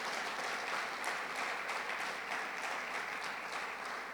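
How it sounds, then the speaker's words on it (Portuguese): A church congregation gives a loud round of applause during a sermon, a steady wash of many clapping hands heard somewhat distantly and evenly throughout, with no speech over it. "Dá um forte aplauso a Jesus Cristo,"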